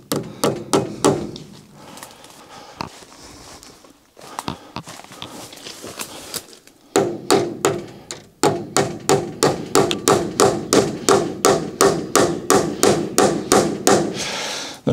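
Fence staples are hammered into a wooden post with sharp, loud metallic blows, first a few scattered strikes, then after a pause a long steady run of evenly spaced hits close by.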